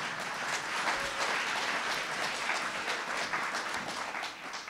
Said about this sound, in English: you can clap, it'll make me feel better.